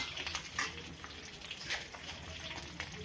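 Bell peppers frying in oil in a pan until soft, giving a steady, fairly quiet sizzle and crackle with faint scattered pops, and nobody speaking.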